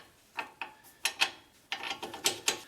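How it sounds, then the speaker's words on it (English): Car jack being raised under a Ford Freestyle during front strut removal, giving a series of sharp metallic ratcheting clicks in irregular bursts, close and fairly loud with no voices. "We're gonna keep jacking it up."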